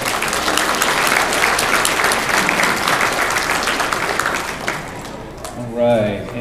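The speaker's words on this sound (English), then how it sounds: "everyone give Bam a big round of applause" A crowd at the West Virginia Submission Only Championships, a grappling event, applauds heavyweight grappler Bam with dense, loud, sustained clapping that fades toward the end, where a voice briefly speaks.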